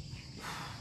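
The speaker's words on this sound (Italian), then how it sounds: "Ah, senti i grilli della natura." Crickets chirp outdoors at night in a steady faint high buzz that swells slightly halfway through, with no other sounds standing out.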